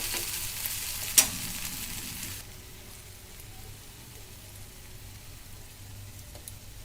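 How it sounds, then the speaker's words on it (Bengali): Cabbage ghonto curry with hilsa fish head gets a light stir in a pan on a switched-off stove, a soft sizzle with one sharp utensil clink near the start, then a quieter simmering hiss. "এবারে হালকা একটু নাড়াচাড়া করে তরকারিটাকে নামিয়ে রাখবো।"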